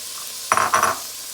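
Green and red peppers dropped into a hot pan for a home Christmas dinner, a sudden loud sizzling burst lasting about half a second after a quiet start, then fading back to low background hiss.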